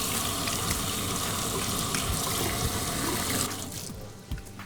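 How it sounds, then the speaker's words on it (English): Tap water runs steadily into a sink while hands are washed, a constant splashing rush that fades and thins toward the end, with no talking. "I'm gonna go wash my hands now"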